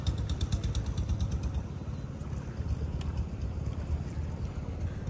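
A boat engine chugging on a river, a steady low rhythmic putter close by, with wind and water wash over it and no voices.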